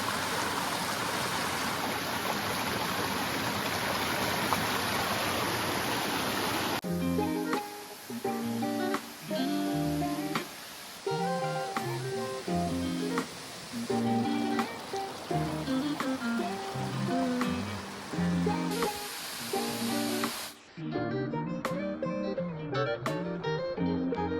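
Tad Mok waterfall near Pha Lae village in Thailand, with water rushing in a steady, dense roar at first. Music then rises over the flow and dominates the rest.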